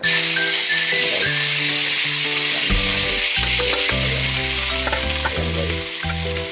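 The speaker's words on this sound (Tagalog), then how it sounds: "Ayan guys, nalagay na natin ang sibuyas at saka guys." Onions fry in a hot pan for a fish sarsado dish, giving a loud, steady sizzle with broadband crackle. Low tonal hum and occasional stirring scrapes sit underneath, and no one speaks.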